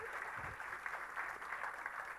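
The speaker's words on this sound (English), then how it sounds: "Oh, a round of applause." Audience applause in a conference keynote hall: faint, dense, continuous clapping heard from a distance, steady throughout.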